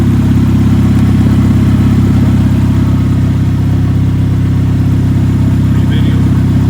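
A rebuilt engine in an old Ford Ranger pickup idles steadily and smoothly close by, a loud, even low hum with no misfires.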